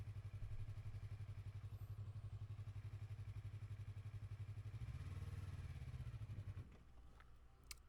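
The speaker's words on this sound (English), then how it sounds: "I'm trying to get used to using the rear brake while taking off from a incline without stalling the bike or over revving it." A Yamaha MT-03 motorcycle pulls away from a stop on an uphill incline, its engine idling in a steady low chug that swells as it revs, then drops off as the bike moves away, close and alone.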